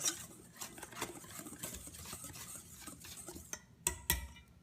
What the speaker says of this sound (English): Mixing it together really nicely. It's not that hard to do. This whisk should get it done just fine.